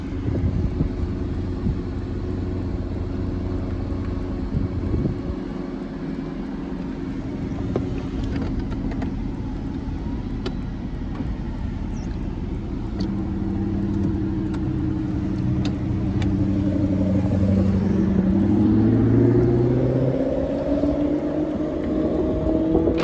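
A Porsche 997 Carrera 4 Cabriolet's flat-six engine hums steadily at low revs, then swells with a rising, sweeping growl as it accelerates toward the end, moderately loud with no voices.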